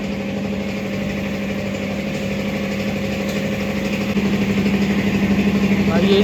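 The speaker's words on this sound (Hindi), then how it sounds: "आवाज़ आ रही है बहुत ज़्यादा यार जनरेटर चलने की" A generator runs loudly and steadily beside tyre-fitting work on a new 2026 TVS Victoris scooter getting alloy wheels, a constant mid-pitched engine drone that swells slightly louder toward the end.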